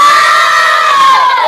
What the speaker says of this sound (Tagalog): Ang lakas ng sigaw.